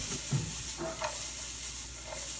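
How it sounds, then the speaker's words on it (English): Carrots, peas and green onion sautéing in a pan for chicken fried rice, a soft continuous sizzle with a few quiet stirring scrapes, faint and close. "We're going to saute this up mostly until the carrots are soft."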